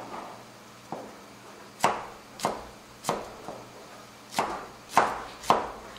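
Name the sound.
knife slicing Cheongyang chili peppers diagonally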